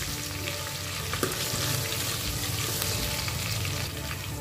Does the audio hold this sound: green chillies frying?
yes